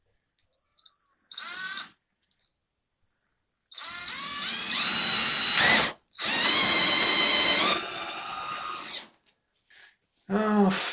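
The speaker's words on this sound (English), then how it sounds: "Let's get my drills out and make some noise." A power drill runs in several bursts, with two long high-pitched whirring runs as it bores through plywood for a model railway, separated by short pauses and ending in brief starts and stops.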